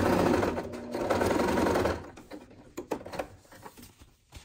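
A sewing machine stitches a 4 by 30 fabric strip onto a handmade craft piece, running steadily at close range for about two seconds before stopping, followed by soft handling clicks and rustles.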